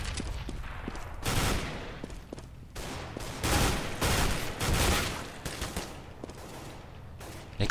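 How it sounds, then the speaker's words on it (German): Gunfire in the video game Counter-Strike during a competitive match on de_mill: repeated loud bursts and rapid automatic volleys interspersed with single shots, dense and close throughout with no talking. "Kerrigan blind geschossen"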